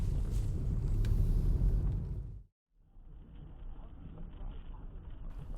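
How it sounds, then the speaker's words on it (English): A delivery vehicle drives on snowy, icy roads, its low rumbling cabin drone steady and close. The rumble cuts out abruptly midway, then returns quieter, with a faint hiss. "So, day in the life of John, delivery driver, driving in some snowy conditions."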